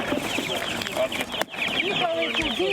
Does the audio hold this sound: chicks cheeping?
yes